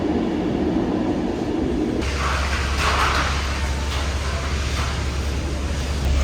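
Inside a slow passenger train in Belgium, a constant rumbling roar of the carriage on the rails with a low steady hum, faint rattles and soft rhythmic clatter throughout.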